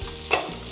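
Capsicum and carrot stir-fry over a high flame, a brief close sizzle with a quick scrape of the spoon through the pan.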